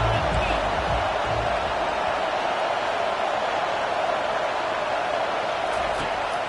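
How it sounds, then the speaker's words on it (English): A stadium crowd roars steadily during a college football game, Florida against Nebraska, on third down: a dense, continuous wash of cheering noise from many voices throughout, loud and unbroken, with a commentator's voice faintly underneath. "Decibels rising as the crowd gets behind this defense on 3rd down."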